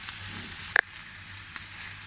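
A steady, fairly quiet sizzle of onions frying in a pan, with a brief clatter as chopped celery is tossed in, then the frying carries on evenly.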